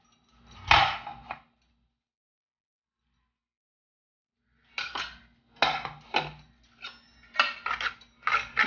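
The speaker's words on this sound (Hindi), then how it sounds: "इसको थोड़ा थोड़ा करके दूध में" A whisk beats chocolate mixture into milk in a bowl, giving short bursts of metallic clinking and scraping separated by a long silent pause, then several quick rhythmic strokes.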